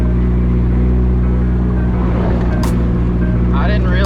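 A car rolls along a rough gravel dirt road on the way to a gas station, a loud, steady low rumble of tires and engine filling the whole stretch with a brief sharper rattle near the end.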